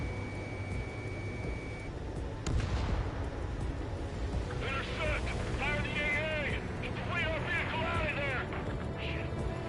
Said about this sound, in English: I wonder if I can hit him with regular missiles.